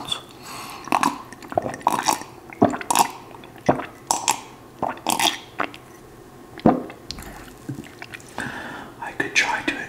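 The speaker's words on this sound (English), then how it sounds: "Let me just drink some water real quick. Maybe you can get some ASMR or tingles from the gulping sounds." Gulps of drinking water come close to the microphone in a soft ASMR setting, a series of wet swallows and mouth clicks spaced every second or so, with brief whispered speech in between.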